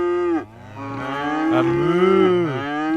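Cattle mooing in the Cities: Skylines city-building game, two long drawn-out moos close together with a short gap, loud and clear with no talk over them.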